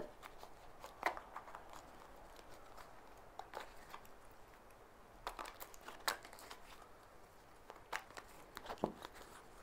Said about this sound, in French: Je vais maintenant battre les cartes.